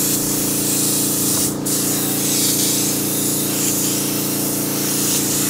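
Airbrush-style sprayer misting paint onto a 3D-printed king cobra model, a continuous loud hissing spray that holds steady the whole time with a brief dip partway through.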